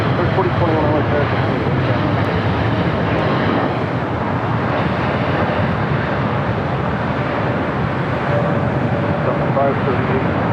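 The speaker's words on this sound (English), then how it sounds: "That American Dreamliner now rolling down at 25 right." American Airlines Boeing Dreamliner rolling down runway 25 right at LAX for takeoff, a continuous loud jet roar holding steady throughout, with radio chatter audible over it.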